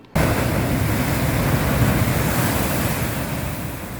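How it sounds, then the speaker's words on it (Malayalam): Rough sea surging onto the coast in Kollam during a coastal sea attack, a loud continuous roar of breaking surf with heavy wind buffeting the microphone, starting abruptly and rolling on without pause. "കൊല്ലത്ത് വീണ്ടും രൂക്ഷമായ കടലാക്രമണം"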